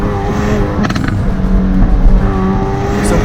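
A 2019 Hyundai i30 Fastback N in sport mode, engine droning loud and close from inside the car, with a brief burst of crackling exhaust pops near the one-second mark under a steady engine hum.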